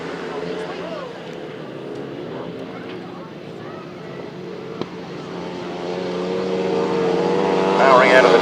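Grasstrack racing motorcycles at a rural meeting rev and then surge away down the first straight, engines rising into a loud, building roar near the end, with a commentator speaking over them.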